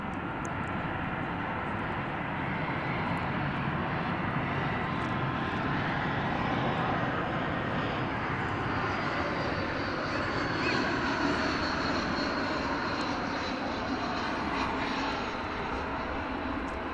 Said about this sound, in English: American Flight 2517 coming in from Calgary